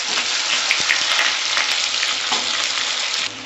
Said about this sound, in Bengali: আমি পেঁয়াজগুলো একটু লাল লাল করে ভেজে নেব